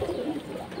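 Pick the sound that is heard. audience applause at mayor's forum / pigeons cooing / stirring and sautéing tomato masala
pigeons cooing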